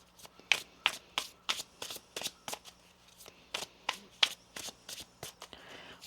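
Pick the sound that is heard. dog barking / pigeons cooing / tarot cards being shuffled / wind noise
tarot cards being shuffled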